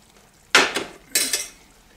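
Two scraping, clinking stirs of a spoon through chili con carne with pinto beans in a pot, each a short burst about half a second apart, close and fairly loud with quiet gaps between.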